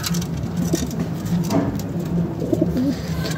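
Domestic pigeons, a bred male and his paired female, coo in a low repeated murmur close by, with soft patter and rustling around them.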